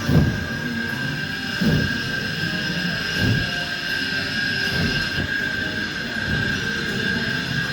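Dragon-themed ride at a Legoland park, a steady rumbling run of wheels on track with a thin high whine and periodic louder clunks, heard at moderate distance.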